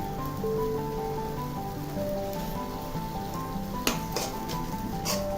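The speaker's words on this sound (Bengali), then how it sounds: "এখন পেঁয়াজটাকে আমি ভেজে নিব" Chopped onion and three dried red chillies fry in about a tablespoon of oil with a steady, dense, rain-like sizzle up close and a couple of faint clinks near the end.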